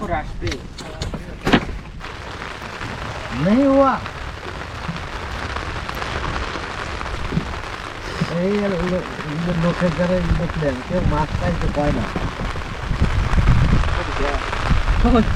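Rain falls on a beel, a wetland with water lilies, as a continuous patter and hiss. People talk and hum over it, with a few sharp knocks near the start.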